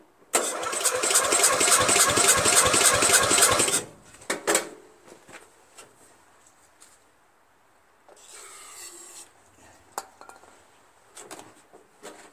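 A Briggs & Stratton flathead engine on a Murray Select 13.5 HP riding mower cranks and fires, roaring briefly for a few seconds before cutting out, followed by scattered clanks and quieter rattling.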